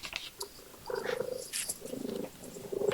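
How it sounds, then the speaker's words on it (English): A cat purrs loudly and close by in rhythmic rumbling bursts, with a few soft rustles in between. "That is real loud purring"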